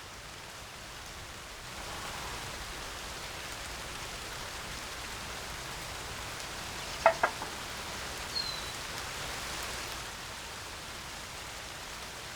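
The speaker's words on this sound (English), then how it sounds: "It's been so dry here so often, and now we're getting some good rain." Spring rain falls steadily outdoors after a long dry spell, an even soft patter throughout with a couple of brief sharper taps near the middle and no voices.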